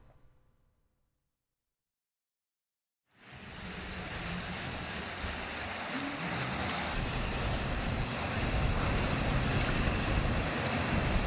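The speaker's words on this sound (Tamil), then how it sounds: "சாலையில் தண்ணீர் பாய்ந்தோடும் காட்சியை பார்ப்போம்" Heavy rainwater flooding across a road near Sriperumbudur, Kanchipuram, after a night of downpour: a loud, dense roar of rushing water that cuts in after a few seconds of near silence and holds steady, with wind buffeting the microphone.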